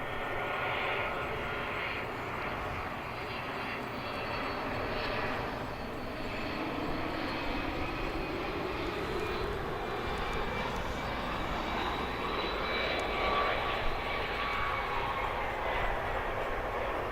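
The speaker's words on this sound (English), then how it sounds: "the arrival of this A300, which is coming in from Memphis" An Airbus A300 arriving from Memphis roars steadily past at DFW airport. The loud, continuous jet engine rumble holds for the whole stretch, and its whine shifts in pitch as the plane passes.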